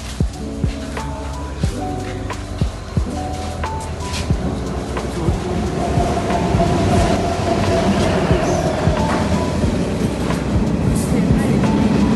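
A train rolls along loud and close, its wheels clacking rhythmically over the rail joints, with a steady rumble building and voices faintly underneath.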